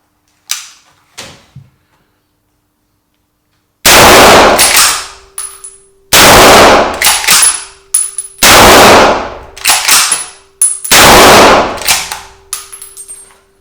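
A Browning Maral HC Big Game straight-pull rifle in .30-06: a few soft metallic clicks as the magazine seats and the action is drawn back, then four loud, sharp gunshots spaced roughly two seconds apart, each ringing out with a decaying tail.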